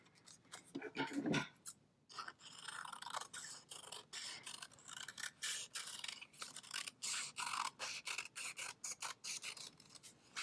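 Scissors snip and trim cut paper shapes for a paper monkey craft, a rapid series of close, crisp cutting and rustling sounds.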